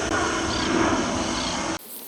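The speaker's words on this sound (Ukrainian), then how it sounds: "Гелікоптер, гелікоптер." A helicopter flying overhead makes a steady, fairly loud rotor and engine drone that cuts off abruptly near the end, leaving quieter background.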